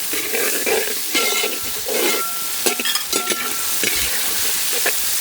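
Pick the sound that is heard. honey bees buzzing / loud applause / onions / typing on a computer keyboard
onions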